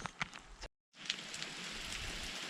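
Rain falls in the mountains during a thunderstorm near a small chalet, a faint, steady hiss and patter that cuts out for a moment and then resumes evenly.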